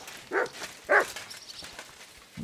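A dog in the medieval role-playing game Kingdom Come Deliverance II barks twice in quick succession, moderately close, over a faint background of game ambience.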